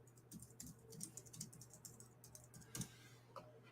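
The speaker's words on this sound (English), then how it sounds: "I keep typing Gamescom." Keys tapped on a computer keyboard in short, irregular bursts, quiet and close, with a few sharper clicks among them and a low steady hum underneath.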